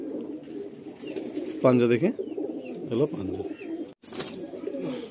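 Pigeons coo steadily in a loft of Madrasi and Giribaj pigeons kept for sale, with someone talking over the soft repeated calls and a brief handling noise near the end.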